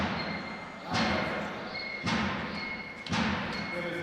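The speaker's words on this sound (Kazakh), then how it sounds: "мығым соққы болды өте" In a martial arts bout between Stanislav Melnikov and Nurzhan Omar, solid kicks land as three heavy, close thuds about a second apart over a dull background.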